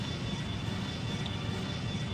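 Boeing 757 engine in the Extreme Landings Pro flight simulator, a steady low droning roar holding at an even level throughout, with no voices over it.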